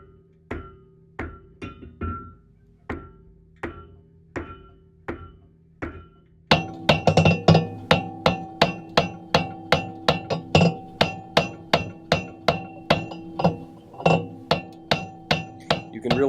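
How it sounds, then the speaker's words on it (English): A 5-pound straight peen hammer pounds metal during blacksmith forging of a hawk, sharp ringing blows at a steady rhythm, slower and lighter at first, then faster and heavier with bright metallic ring, close and loud with no talk. "So I'm using a 5-pound straight peen hammer here"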